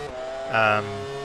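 Racing motorcycle engine from the video game MotoGP 08, a short high-pitched revving whine that rises briefly then settles, heard up close.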